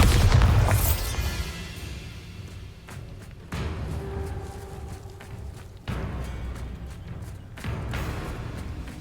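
A Bombarda blasting spell goes off in a video game, a loud booming explosion at the start that rolls off into rumbling debris, followed by heavy thuds and further muffled impacts.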